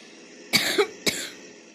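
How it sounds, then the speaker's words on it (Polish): A person coughs twice, sharp and close, with a brief throaty rasp between the two bursts and quiet background otherwise; no one speaks. "Strasznie mnie ten kaszel coś męczy"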